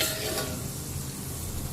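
Oil sizzles hard in a pan while spices are tempered for a tangy okra and potato curry, a steady close hiss with faint stirring scrapes and no voices.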